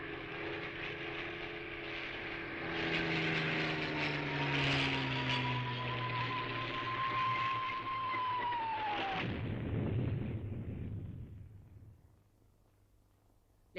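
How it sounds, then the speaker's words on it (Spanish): Propeller-driven Heinkel 111 and Junkers 52 bombers roar overhead during a bombing raid, a loud sustained engine drone with a pitch that slowly falls as the planes pass, then fades away after about nine seconds. "Los aviones eran Heinkel 111 y Junkers 52."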